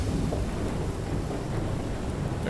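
Stormy weather in FAR: Changing Tides, heavy rain and gusting wind forming a constant, loud wash of noise with a deep thunder rumble rolling beneath it.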